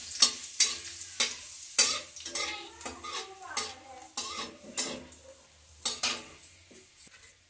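Garlic and onion frying in a pan for a pea nemona (matar ke gade) dish, with a steady sizzle under repeated sharp scrapes and clinks of a spoon stirring against metal. There is no talking.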